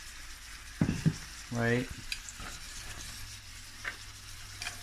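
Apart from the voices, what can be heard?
steak and vegetables frying in olive oil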